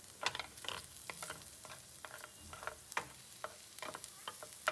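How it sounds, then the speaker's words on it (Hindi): Garlic fries in a pan with a quiet, crackling sizzle. Irregular scraping ticks from stirring come through, and the whole sound stays soft and close, with no voices. "ये लहसुन मैंने थोड़ा सा फ्लेवर के लिए डाला है पूरे पैन में, ताकि थोड़ा फ्लेवर आ जाए इसका पैन में।"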